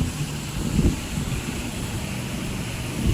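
Strong wind and rain roar outdoors as a steady, broad rush that buffets the microphone, with low gusty thumps throughout and no voices over it.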